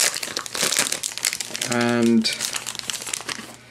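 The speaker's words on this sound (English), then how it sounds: "you can see simple cellophane wrapping, cardboard insert to keep it straight" Cellophane wrapping on a plastic zipper insert for a traveller's notebook crinkles close up in a loud burst, with a person talking over the handling.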